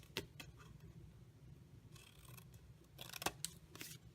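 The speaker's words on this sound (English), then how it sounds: "I'm going to cut this top whole tab off on that score line" Scissors snip through cardstock along a scored fold line for a Halloween paper craft, giving a few separate crisp cuts spread out in time, close and fairly quiet, with no talking.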